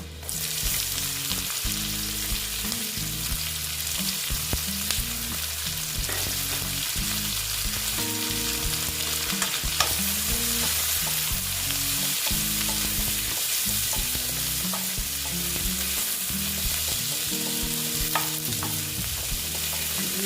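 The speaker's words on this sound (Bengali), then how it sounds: "এইবার আমি এগুলোকে ভালো মতো ভেজে নেব" Chopped onions fry steadily in a pan for a Bengali loitta shutki (dried Bombay duck) vorta, with a continuous close sizzle and repeated scraping stir strokes throughout, no talking.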